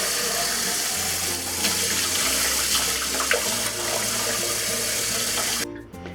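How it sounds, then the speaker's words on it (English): Cold tap water runs steadily into a sink as cooked tapioca pearls are rinsed, a continuous close hiss and splash that cuts off near the end. "So next we're going to give the pearls a quick rinse under cold water."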